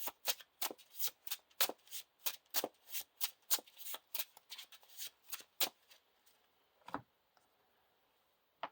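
Cards being shuffled for the Lord of the Rings card game in a rapid series of crisp riffling snaps, close and clear, thinning out to a couple of final taps.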